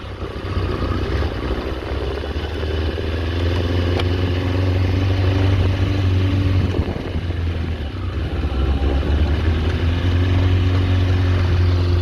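A scrap Kawasaki ZX4 motorcycle engine runs steadily while being ridden in first gear, a loud, continuous low drone with a rough mechanical clatter, close and unbroken throughout with no talking.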